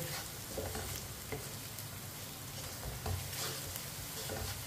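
Spices cooking in a pan for onion and tomato sabzi, a steady close sizzle with soft scraping from stirring running throughout, no voices.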